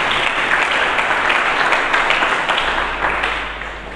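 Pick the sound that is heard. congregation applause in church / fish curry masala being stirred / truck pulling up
congregation applause in church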